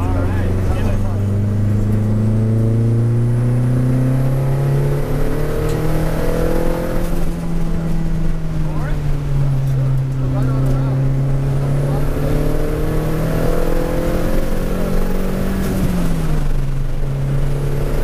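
A 600-horsepower Toyota C-HR R-Tuned accelerates hard, its loud engine drone climbing and shifting in pitch over about eighteen seconds, with people talking inside the car throughout.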